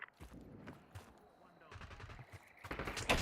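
Gunfire from a video game battle, with sharp shots scattered through the passage and a louder burst near the end, mixed with footsteps and background game noise.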